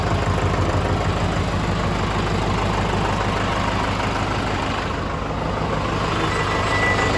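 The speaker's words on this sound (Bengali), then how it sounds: "স্টার্টিংও কমপ্লিট একদম স্মুথ আওয়াজ একদম তো ইঞ্জিনের সাউন্ডটাও কেমন লেগেছে" A newly delivered vehicle's engine idles smoothly, a steady low rumbling drone close by that continues unchanged throughout with no talk.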